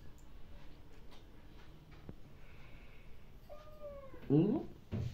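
One short, rising-and-falling cat meow sounds near the end, clear and close, after a stretch of quiet background noise.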